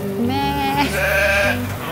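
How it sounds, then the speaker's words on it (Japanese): Sheep bleating on a farm campground with a large flock, two or three drawn-out wavering bleats close by and loud, overlapping one another. "はっ、羊ちゃん"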